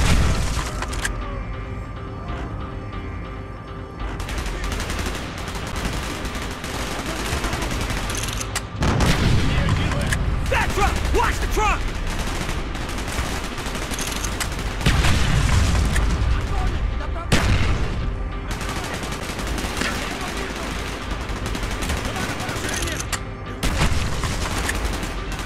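Heavy gunfire in a Call of Duty Black Ops battle mission, with continuous loud rifle and machine-gun bursts, booming artillery-like blasts and explosions, and shouted voices mixed into the chaos.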